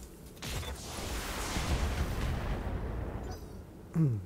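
Mechs unload a full weapons volley in the Battletech video game: a dense, roaring barrage of booming shots and blasts that builds for about three seconds, fades, then ends with one more sharp burst.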